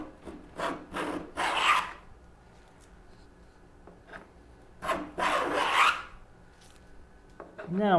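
A hand plane shapes a wooden moulding with a few separate rasping strokes, two or three close together at the start and more after a quiet pause, each a short, close scrape of blade on wood.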